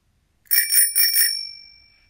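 A bicycle bell rings four times in two quick pairs, bright and close, its metallic tone lingering and fading afterward.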